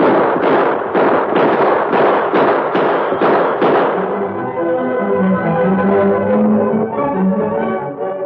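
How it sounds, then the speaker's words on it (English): A rapid run of about eight sharp gunshot bangs opens a radio western drama, loud and evenly spaced, then breaks off into background music that carries the rest. "Gun him down, Tar. Come on, fellow. You won't get me. Shoot him, Tar."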